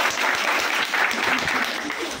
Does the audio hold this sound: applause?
yes